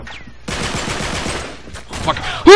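A turret fires in a shooter video game, a fast rattling burst of rapid shots after a brief quiet start, with a voice and other game sounds breaking in near the end.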